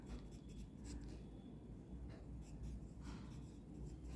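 A pen writing Hindi stenography shorthand on paper, a faint continuous scratching and rubbing with brief strokes and pauses, low and close.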